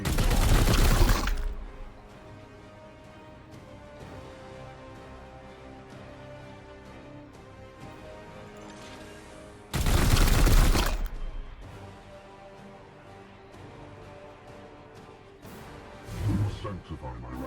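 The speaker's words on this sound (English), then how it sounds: "Firing on target." Gunfire in the Chaos Gate - Daemonhunters video game comes in two loud, sustained bursts of shots, each about a second long, with a quieter crack near the end. A low ambient music bed runs between the bursts.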